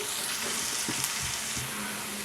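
Onions frying in a pan with curry leaves, a continuous close sizzle with faint spatters and crackles, steady throughout.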